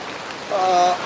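Heavy night rain falls in Virar at the start of the monsoon, a steady close hiss with a faint tonal whine rising briefly partway through.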